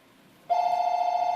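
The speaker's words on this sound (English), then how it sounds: "The phone's ringing." A telephone begins ringing partway through, a steady, loud electronic ring tone that holds unbroken after a quiet start, with no one speaking.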